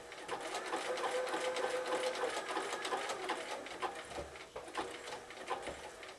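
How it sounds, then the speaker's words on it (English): A sewing machine stitches a zig-zag applique edge on birthday bunting, running steadily with a busy, continuous mechanical whir throughout, close and fairly loud, with a small pause and change in pace near the end. "so again I lift, turn and stitch on top of where I've just been"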